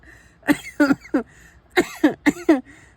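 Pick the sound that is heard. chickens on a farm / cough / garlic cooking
cough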